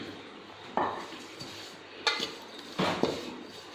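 A spoon stirring grated coconut in a kadhai over a low flame, a few sharp metallic clanks and scrapes spaced apart over quiet room noise.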